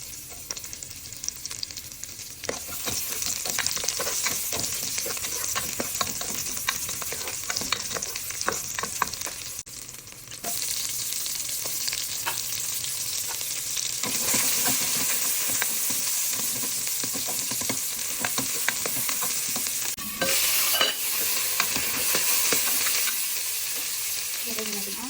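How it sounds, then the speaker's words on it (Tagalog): Onion and garlic sautéing in a small amount of cooking oil for beef caldereta, a steady loud sizzle with frequent scraping stirs throughout, no talking. "So nagpe-prepare na ako para igisa natin yung sibuyas at saka bawang."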